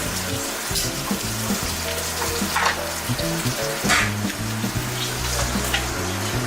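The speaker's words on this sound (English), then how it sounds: "rotate the quail, sear on all sides, get nice golden brown." Quail sears in a hot pan with a continuous close sizzle, broken by brief louder spits as the pieces are turned, over a low steady hum and with no talking.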